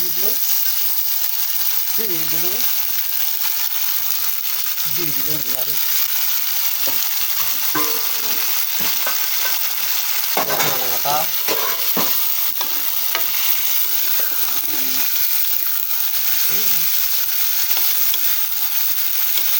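Chopped tomatoes hit onions frying in a pan, producing a continuous loud sizzle with repeated scraping stirs throughout, and a few brief quiet vocal sounds in between.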